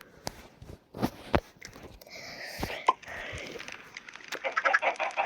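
Chickens in the mobile video game Island Craft cluck in short scattered bursts, with sharper clicks mixed in and a denser flurry of clucking toward the end.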